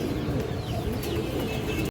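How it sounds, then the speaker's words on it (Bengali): Low, rolling pigeon coos from a loft of fancy breeds run continuously with faint chirps from other birds and murmuring background noise, ending abruptly. "এই যে দেখেন কবুতরগুলো দেখেন"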